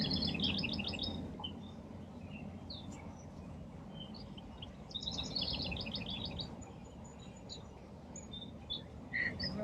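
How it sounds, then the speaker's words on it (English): Many birds sing outdoors, with bursts of rapid high chirps and trills at a moderate distance over a soft, steady background rumble, and no talking. "It sure does feel nicer outside hearing these birds"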